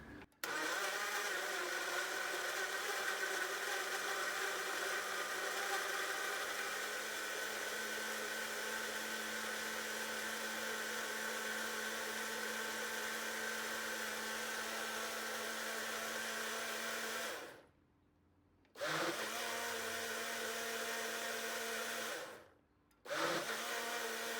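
A kitchen blender whirs loudly and steadily while blending a smoothie-style ice cream, with two brief pauses where the motor cuts out and restarts.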